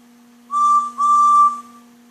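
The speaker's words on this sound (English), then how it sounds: "Then the three engines heard a whistle." Two shrill steam locomotive whistle blasts from a children's cartoon, the second longer, sounding loud and close over a steady low hum.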